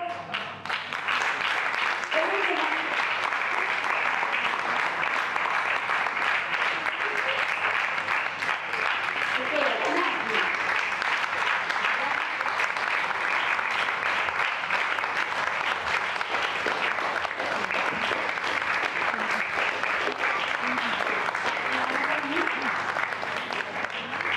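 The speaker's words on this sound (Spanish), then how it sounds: "y tomamos un aplauso" An audience at a children's mission theatre play applauds in sustained, dense clapping that holds steady at full strength throughout.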